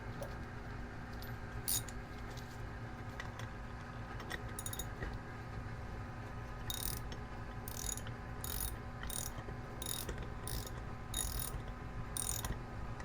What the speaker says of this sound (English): So here's my wrench here. Just going to get this thing going here